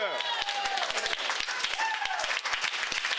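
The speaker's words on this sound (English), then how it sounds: "let's give a round of applause for Comrade Carly" Clapping and applause from a convention crowd for Comrade Carly, with individual sharp claps scattered across the stretch under several overlapping voices and some cheering.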